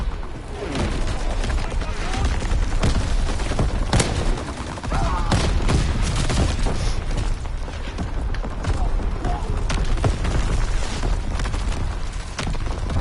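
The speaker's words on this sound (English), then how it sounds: "Incoming enemy artillery. Get to cover." Incoming enemy artillery in a video game battle: continuous heavy barrage of booms and gunfire, loud and dense throughout, with a game voice announcement mixed in.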